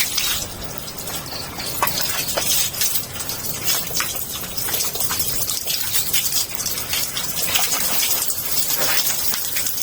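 Cold mountain water gushes continuously at a bathing spot in the mountains, a steady close rushing splash with no talk.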